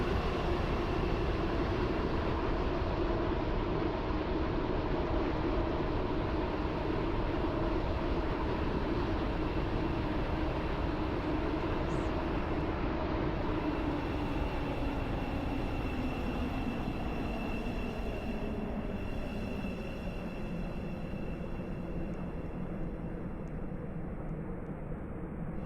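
A Roblox Stepford County Railway metro train approaching a station, a steady loud rolling rumble with whining tonal hum that slowly drops in pitch and fades slightly as it slows, running continuously without breaks.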